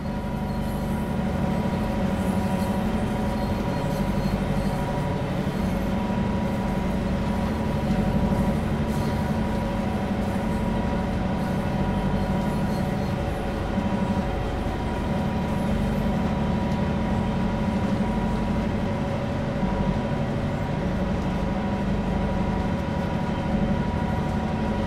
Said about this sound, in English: Currently aboard a GP9RM diesel locomotive